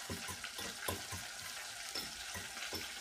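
A fork whisks egg in a bowl, giving quick, steady scraping and clicking strokes in a soft, continuous rhythm, close by and fairly quiet with no talking.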